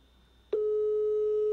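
Telephone ringback tone heard over a radio call-in line, one long steady beep starting abruptly and holding for about a second, loud and clear with no voices.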